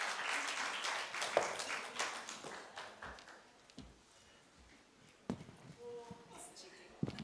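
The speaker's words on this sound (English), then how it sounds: "Let's have a big round of applause." Applause from an audience at the EU Nepal Business Forum, dense clapping at moderate distance in the opening seconds that thins into scattered claps, with voices and other room noise beneath.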